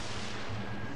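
An enemy warship's guns in World of Warships Legends blast out as one deep, booming report that rumbles on through the full second at close range.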